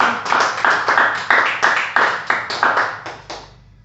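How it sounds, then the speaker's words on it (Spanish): A church congregation claps in unison, about a dozen sharp, evenly spaced rhythmic claps that carry a little room echo before stopping. "Bríndenle un fuerte aplauso al Señor."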